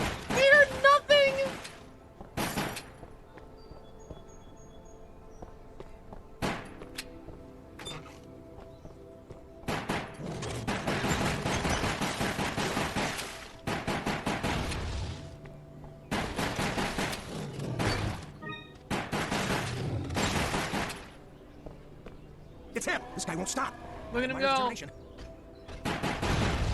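Bursts of gunfire in the video game Resident Evil Darkside Chronicles, rapid shots coming in clusters between quieter gaps, loud and up front, with excited talking from players over much of the action.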